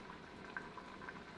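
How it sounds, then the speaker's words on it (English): Italian dressing and water boil down in a pan, giving a faint, steady bubbling simmer with small scattered pops and no voices. "I'm boiling down the Italian dressing in water to let some of the water evaporate for a sauce for the chicken"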